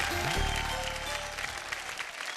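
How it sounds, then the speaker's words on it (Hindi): A studio audience on a televised Hindi show applauds briefly over a short musical tone, the clapping steady and moderately loud. "जोरदार तालियां इनके लिए।"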